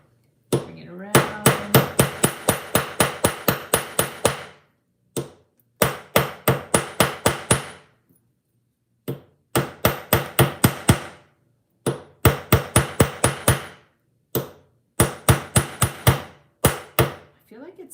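Rapid ringing hammer blows flatten a wire jewelry frame, delivered in close, loud bursts of about eight to twelve strikes separated by short pauses, continuing throughout.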